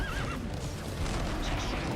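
A horse whinnies briefly at the start in the video game Alicia Online, a shrill wavering neigh, followed by a dull rumbling background.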